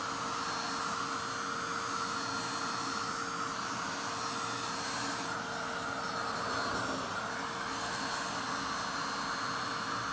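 A heat tool drying a damp toilet roll cast embellishment gives off a steady, loud whirring blow with a constant hum and hiss throughout.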